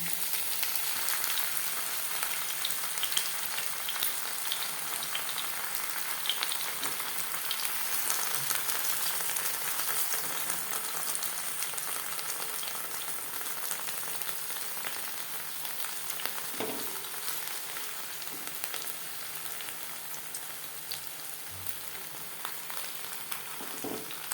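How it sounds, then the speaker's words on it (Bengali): Masoor dal paturi wrapped in bottle gourd leaves fries in hot mustard oil in a nonstick pan, giving a steady, soft, even sizzle throughout with occasional faint pops and clinks, no voices. "তেলটা প্রথমে গরম করে নিয়েছি হাই ফ্লেমে এবার দিয়ে দেবো পাতুরি"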